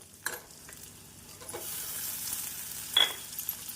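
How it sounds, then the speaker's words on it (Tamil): Chopped tomatoes and onions sautéing in a pan for a chayote (chow chow) poriyal, a soft steady sizzle with a few spoon stirs and scrapes, no one talking. "தக்காளி சேர்த்து வெங்காயத்துடன் நன்றாக வதங்கி வரவும்"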